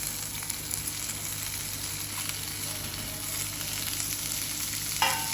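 Beet and besan bites sizzle steadily in a hot pan while being stirred, a continuous close frying hiss with occasional scraping, no voices.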